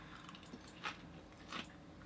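Crunchy Japanese convenience store salad chewed close to the mic, with two distinct crisp crunching bites among quieter soft mouth sounds.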